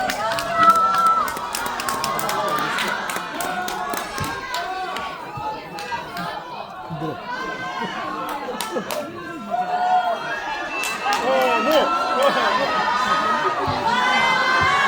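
Loud, continuous crowd noise at a Korean film stage greeting for the movie Boss, with the audience cheering and shouting as the cast moves toward the seats. Excited voices and scattered shrieks run through the whole stretch.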